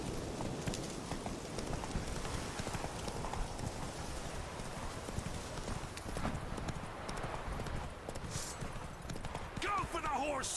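Roach the horse galloping in The Witcher 3, with steady rapid hoofbeats running throughout at a fairly loud, close level. A player's voice is heard over it.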